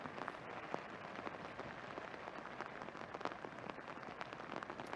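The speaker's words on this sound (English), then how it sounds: "The rain pelting down." Heavy rain falls on a golf course during a tournament round, a soft, continuous patter with scattered sharper drops, distant and fairly quiet, with no voices.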